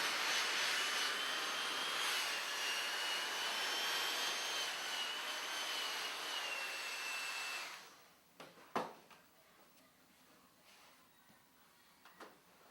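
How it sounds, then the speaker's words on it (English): A hair dryer blows steadily while a quickweave closure is set on a head, a continuous airy roar that cuts off partway through, leaving faint handling clicks and quiet room sound. "Reinforcing with the dryer."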